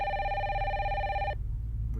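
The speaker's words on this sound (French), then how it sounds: "Le téléphone, ouais." A telephone rings in a Nintendo Direct game trailer, one steady electronic ring tone holding for over a second before cutting off abruptly, fairly loud, with no talk over it.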